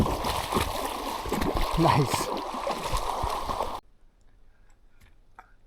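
A hiker on the Appalachian Trail in the 100 Mile Wilderness wades through a shallow stream, water splashing and gurgling close by around the steps. A brief spoken word comes before the sound cuts to near silence.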